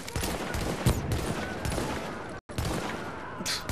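Pistol gunfire in The Division's Dark Zone: rapid, loud shots cracking one after another in quick bursts, with a brief drop to silence midway before the firing resumes.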